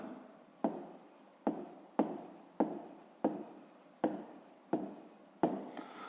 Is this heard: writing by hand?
yes